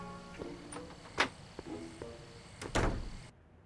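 A flophouse door opening in a Back to the Future video game, heard as a couple of soft thunks and a sliding sweep, fairly quiet, with no talk.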